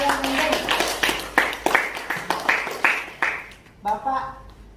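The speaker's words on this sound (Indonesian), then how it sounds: "Beri tepuk tangan kepada teman kalian Angel." A junior high class claps for a classmate, a series of roughly eight distinct bursts of hand claps in a loose rhythm, fairly close, with students' voices mixed in and a short spoken exchange near the end.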